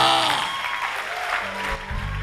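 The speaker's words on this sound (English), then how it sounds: "somebody is clapping better for Jesus" A church congregation clapping during a service, dense close applause mixed with raised voices and a tonal musical background.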